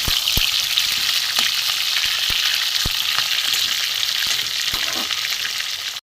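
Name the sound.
pointed gourd frying in oil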